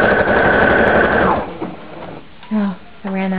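Sewing machine stitching fold-over elastic, a fast steady whirring run that stops after about a second and a half, followed by brief handling noises and short voiced sounds.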